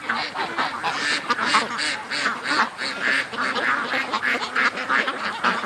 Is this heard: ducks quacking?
yes